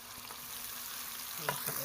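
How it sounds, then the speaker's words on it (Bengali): Ginger and garlic fry in a pan for a chicken dish, a steady close sizzle with a couple of faint stirring clicks near the end and no voices. "এখন আদা রসুন দিলাম"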